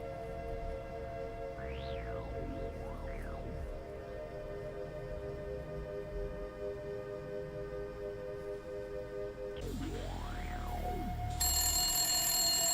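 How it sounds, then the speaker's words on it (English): Telephone ringing in the film Pi, a steady electronic ring over a droning, sweeping film soundtrack that swells louder near the end. "this ringing sound is gonna drive me mad"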